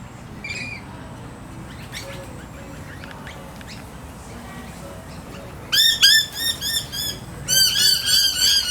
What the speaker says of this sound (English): That's why they get called noisy miners, because of that call.